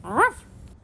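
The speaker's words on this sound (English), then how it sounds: "There's a dog behind the camera right now." A dog behind the camera gives a single short, high whimpering yelp, close and fairly loud, then quiet.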